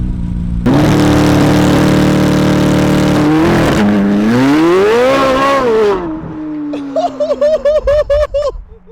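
2023 C8 Corvette Z06 launching under launch control, a loud close engine holding high revs, then surging and climbing through gears with rising and falling pitch, ending in sharp fluttering shifts.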